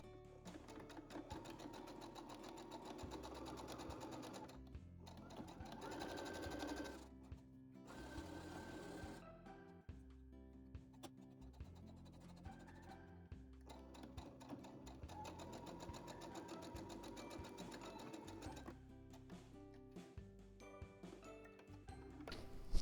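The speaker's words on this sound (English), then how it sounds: "Now we're going to sew those 3 pleated edges with a 1/4 inch seam allowance." A sewing machine stitches pleated charm-square fabric with a quarter-inch seam, running in steady continuous bursts with brief pauses where the stitching stops, close and clear with no talking.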